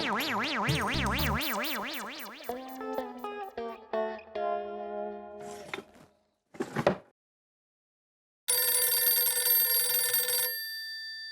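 Telephone ringing in a comedic household scene, heard as a steady electronic ring lasting about two seconds near the end, after a run of wobbly, zany sound effects and short silences.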